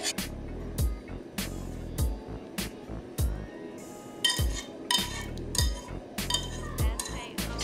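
Whisking an almond cheese mixture into almond paste in a bowl, with a run of sharp metallic clinks and taps of the whisk against the bowl, close and fairly loud, with no talking.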